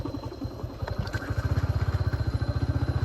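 A motorcycle rides along a muddy forest track, its engine chugging in a steady pulsing rhythm that grows stronger and more regular, close by and without talk.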